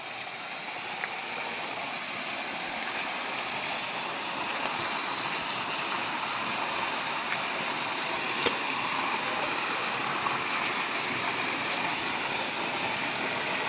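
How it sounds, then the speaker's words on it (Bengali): A waterfall in Mizoram pours steadily, a soft continuous rush of water heard from some distance, even and unbroken with no voices. "সুন্দর ঝর্ণা, মিজোরাম ঝর্ণা।"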